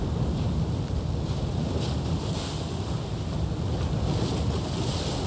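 Ocean waves wash steadily around an island shore in the VR game Bootstrap Island, a continuous broadband roar of surf blended with wind, moderately loud and unbroken, with no voices.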